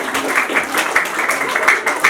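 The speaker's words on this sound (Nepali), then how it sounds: "तपाईँ सबैले ताली पड्काएर हाम्रो चाहिँ गीतकारलाई धन्यवाद दिनु पर्यो।" An audience at a school event claps steadily in thanks for a children's song lyricist, a dense, close patter of many hands with small surges, no speech over it.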